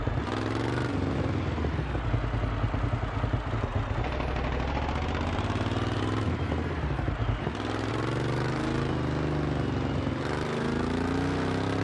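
A 2015 Ducati Scrambler 800 Icon motorcycle engine idles and revs continuously, a loud close throaty rumble that rises and falls in a few surges.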